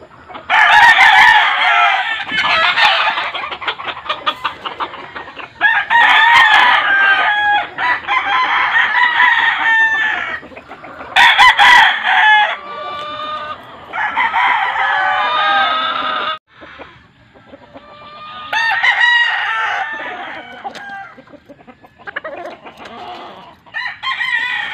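Gamefowl roosters of the sweater breed crow repeatedly and loudly at close range, long harmonic calls overlapping in bursts with brief gaps, some clucking between, no talk over them.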